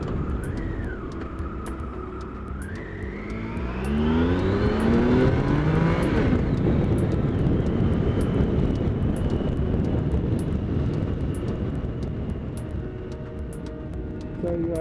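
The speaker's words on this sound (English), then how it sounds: "you can just hear that lovely whine of that Hinkley triple, a sound that's very addictive." A Triumph Tiger 1050 Sport motorcycle with a Hinckley-built triple engine revs up and holds a loud, steady whining drone on the road, rising in pitch mid-ride and then sustaining under wind rush.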